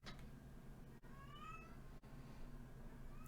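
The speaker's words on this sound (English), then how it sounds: "they wouldn't be meowing like my cat is outside" A house cat meowing outdoors, a couple of rising, drawn-out meows in the middle over a steady low background hum, moderately close, with no talking.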